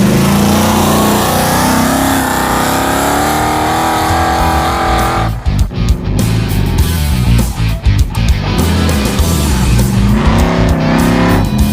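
A car engine roars loudly, then revs hard through several sharp bursts as it accelerates, with a raspy exhaust note and brief gaps between shifts.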